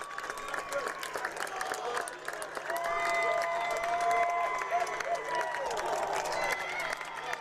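Home-side football crowd at an Iowa Central Tritons versus Iowa Western Reivers game cheering after a touchdown, a distant roar that swells midway and stays loud, with an announcer talking over it.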